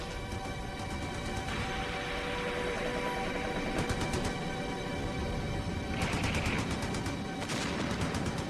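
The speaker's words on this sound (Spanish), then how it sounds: "Luego los ingleses barrieron las riberas con fuego de ametralladora." Machine gun fire sweeps across the riverbanks in a First World War battle, rapid bursts rattling over dense continuous combat noise, loud and sustained.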